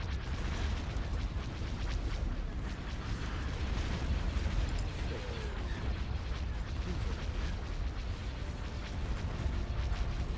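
Continuous dense rumble of bombing explosions from a space battle in Star Wars: Empire at War, steady crackling booms and mechanical clatter filling the whole stretch at an even, moderate loudness.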